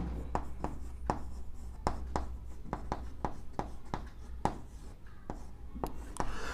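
Writing on a board during a biology lesson: a quiet series of sharp taps and short scratching strokes at an uneven rhythm, close by, with no talk.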